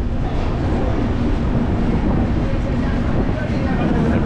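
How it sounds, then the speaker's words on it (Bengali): A passenger train departing Balasore station on the Howrah to Puri run makes a steady, loud rumble and rattle heard from inside the carriage, continuous throughout. "বালেশ্বর থেকে আমাদের ট্রেন ছেড়ে দিল"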